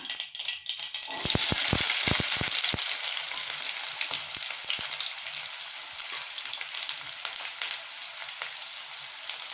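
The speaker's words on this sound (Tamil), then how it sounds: "ஒரு 15 சின்ன வெங்காயம் கட் பண்ணி வைக்கிறேனுங்க. அதை போட்டுக்கலாம்." Chopped small shallots dropped into hot oil with popped mustard seeds while cooking banana flower poriyal: a burst of loud sizzling with quick crackles, then a steady close frying hiss, no talking.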